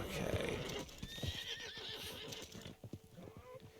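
A horse in a video game neighs loudly up close, a wavering whinny over hoof clops and scattered game noise.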